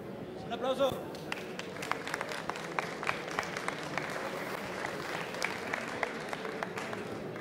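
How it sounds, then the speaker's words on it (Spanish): Fairly faint applause from a small audience at a hackathon follows an app presentation, scattered claps continuing steadily beneath close voices. "¡Un aplauso!"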